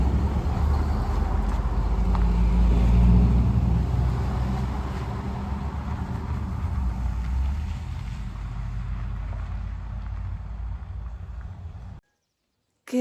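A four-wheel drive vehicle rumbles slowly past on a narrow village lane in central Portugal, a loud low engine drone that swells early then gradually fades before cutting to silence.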